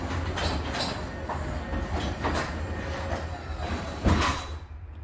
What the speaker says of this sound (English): So I'm continuing to hold that button down and the garage door is shutting.